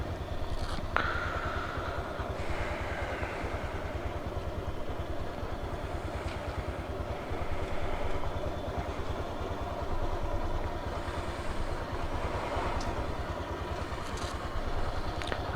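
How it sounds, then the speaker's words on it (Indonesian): A motorcycle engine idles steadily while warming up late at night in Malang, a low, even rumble running throughout with faint clatter and no talk. "sambil nunggu manasi motor"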